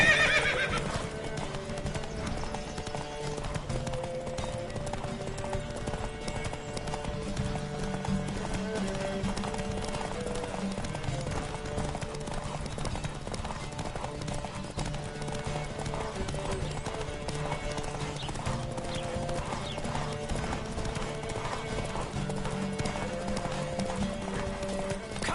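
A horse gallops in a race in The Witcher 3, its hooves drumming in a steady, fast rhythm with occasional whinnies, close and continuous over a constant game background.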